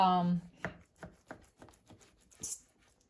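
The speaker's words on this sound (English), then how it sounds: "here is the fresh salmon. So what we have here, we'll go ahead and cut this to" A knife cuts through fresh salmon on a board in a series of quiet, separate taps roughly every third of a second, after a brief voice at the start.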